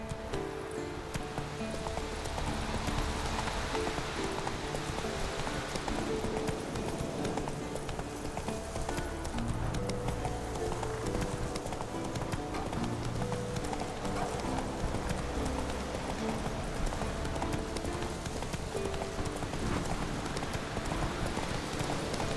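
Hooves clip-clop steadily as a horse gallops in The Witcher 3, a continuous loud rhythmic pounding layered with game ambience and a light rain-like patter throughout.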